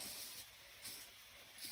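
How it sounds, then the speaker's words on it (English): Spray starch misted onto the edges of fabric before pressing: a few short, faint hissing bursts in a quiet room. "grab your spray starch, give your edges a little spray, not too thick"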